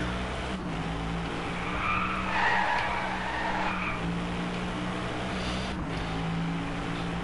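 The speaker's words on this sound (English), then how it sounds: "That's a good drift" Tires squeal in a long, steady skid as a car drifts in the Driveclub racing game, the sustained screech riding over a constant engine drone throughout.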